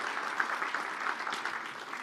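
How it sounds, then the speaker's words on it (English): Applause from a forum audience for the panel of a fentanyl discussion, a soft, steady wash of clapping heard from a distance, with no voices over it. "can you give a round of applause to our panelists on the Q&A portion?"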